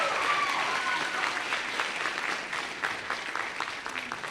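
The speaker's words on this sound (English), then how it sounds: "Keep your applause going." Sustained audience applause fills a high school spring band concert hall after a tenor saxophone and piano performance, dense clapping holding steady before slowly thinning out.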